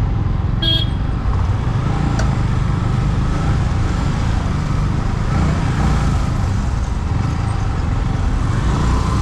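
Road traffic near Pune heard from a moving vehicle, a loud continuous roar of engines and tyres with a brief car horn toot near the start and no voices.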